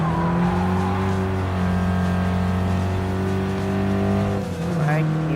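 Alfa Romeo Mito racing in the Gran Turismo Sport FF Challenge, its engine holding a steady loud drone with brief tire squeal near the end, under talk.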